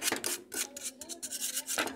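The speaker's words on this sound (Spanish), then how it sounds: "con la lija le borramos eso para que sigan amarrando bien" Close, rapid back-and-forth rasping of sandpaper over a Whirlpool washing machine tub part, a steady scratchy rubbing in quick strokes with no talk.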